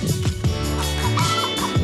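Chickens cluck and murmur steadily, close by, with a few louder clucks over a dense barnyard chatter.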